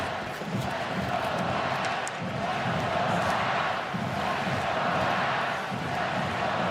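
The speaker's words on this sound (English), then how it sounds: "This is the loudest we've kind of heard the crowd in a while" A dense hockey arena crowd roars steadily throughout a Colorado Avalanche versus Vegas Golden Knights playoff game, loud and sustained with rhythmic chanting swells.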